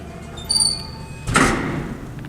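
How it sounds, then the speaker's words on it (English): A high metallic squeal is followed by a loud scraping rumble as the vintage sliding doors of a 1960s Dover traction elevator roll along their track, close and alone. "Very nice vintage elevator doors, too."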